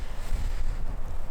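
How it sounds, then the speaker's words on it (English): Strong wind buffets the microphone, a continuous low roaring rumble with gusty fluctuations and no voices. "Pretty windy. Hopefully it dies down."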